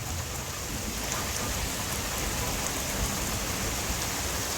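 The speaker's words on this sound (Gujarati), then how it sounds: "જોરદાર વરસાદ પડે છે ભાઈ" Heavy rain pounds a clay-tiled roof over a shelter on a July night, a dense, unbroken hiss of drops that stays steady and even throughout, with no voices.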